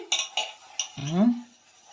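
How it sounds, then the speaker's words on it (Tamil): Dishes and cutlery clink a few times at an uneven pace, then a short vocal sound follows. "பாத்திரம் நீ கழுவிட்டு இருக்கிறிய"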